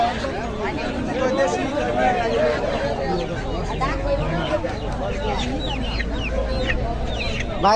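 Domestic chickens cluck and chatter continuously at a busy market, mixed with a crowd of people talking and bargaining nearby.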